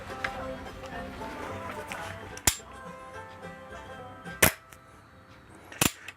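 A handmade longrifle fires three sharp, loud reports spaced a couple of seconds apart, each a sudden crack that fades quickly over soft background sound and voices.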